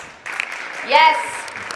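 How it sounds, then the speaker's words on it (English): An audience applauds contestants at a university talk showcase final, with a steady wash of clapping and a voice speaking over it partway through. "Let's give one more round of applause to all of our contestants"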